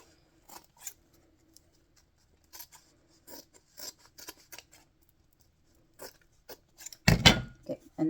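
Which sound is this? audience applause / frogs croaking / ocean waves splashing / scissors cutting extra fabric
scissors cutting extra fabric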